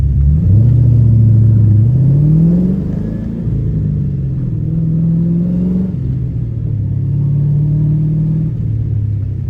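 A 1999 fourth-generation Pontiac Firebird Formula/Trans Am engine revs up and down through several manual gear changes with worn synchros, rising and dropping in pitch, loud and close with no talking.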